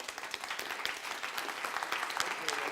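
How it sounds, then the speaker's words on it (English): Conference audience applauds a closing keynote speaker, a professor: dense, steady clapping from a large crowd, fairly distant and even throughout, with no pauses. "Round of applause for this man."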